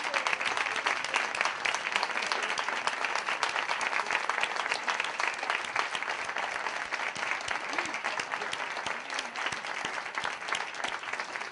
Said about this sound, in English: Can we all just give all of these wonderful, magnificent people a hand, a round of applause, and the ovation that they deserve?